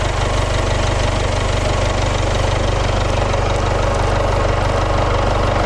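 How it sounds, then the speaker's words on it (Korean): A Jaguar XE 20d AWD diesel engine idles close by with a steady, even low rumble and a rapid regular pulse, unchanging throughout. "엔진 소리 일정합니다."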